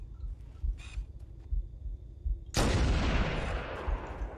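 A sniper rifle in Halo Combat Evolved fires one sudden, loud, booming shot midway through, its blast ringing out and decaying slowly after a stretch of quiet game ambience with faint scattered noises.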